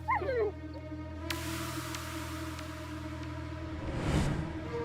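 A Doberman whimpers and barks in the video game My Little Puppy: a rising whiny yip opens, a couple of brief barks follow, and a short whimpering burst near the end sits over a low, steady music drone.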